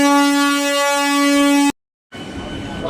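A DEMU train near Dakor sounds a loud, sustained horn up close, a steady rich blast lasting nearly two seconds. It cuts off abruptly, followed by brief silence and then rumbling noise.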